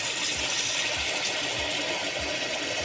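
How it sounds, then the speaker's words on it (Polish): A continuous rushing stream of water pours steadily and fairly loudly into a large cooking pot, with a gurgling undertone and no voices. "Więc wlejemy wodę"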